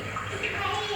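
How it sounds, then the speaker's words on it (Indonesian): Water gurgling in a short, close burst of bubbling and trickling over a faint background. "Suara air tadi gemericik, gemericik, gemericik gitu ya."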